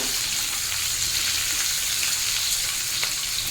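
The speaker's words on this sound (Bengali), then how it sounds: "আম মোটামুটি ভাজা হয়ে গেছে" Raw mango pieces frying on a high flame, a continuous close crackling sizzle with occasional light stirring clicks and no voices.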